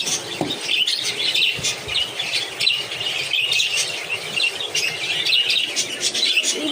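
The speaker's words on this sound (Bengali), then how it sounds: "আমাদের পাখিগুলো খাঁচা সবগুলো রাখা হয়েছে সেট আপ করে" Caged pet birds on a rain-soaked balcony squawk and chirp loudly and continuously, many overlapping sharp calls with no pauses between them.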